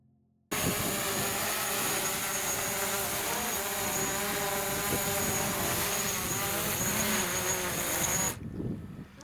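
A DJI drone flies close to the sailing boat Catalpa and lands on it, a steady loud high-pitched buzzing whine that starts abruptly and cuts off near the end, leaving quiet background.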